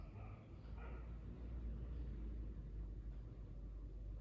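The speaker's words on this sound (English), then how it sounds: "just had a dog bark in the background and then a car drive past" A car passing outside, heard faintly from indoors as a low, steady rumble that builds and lingers across the few seconds, with no other clear sounds over it.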